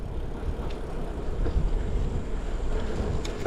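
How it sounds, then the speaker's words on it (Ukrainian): Headwind rushes over the microphone during a hot-weather bicycle ride near Berekavytsia mountain, a steady loud buffeting roar with low rumbling gusts and no talking. "Я ніколи не думав, що я буду радий зустрічному вітру."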